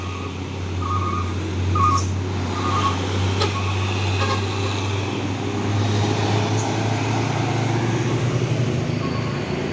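A Hino 500 truck struggling on an uphill road gives off a steady low engine rumble that persists throughout at moderate distance, with faint intermittent beeps and light traffic noise in the background.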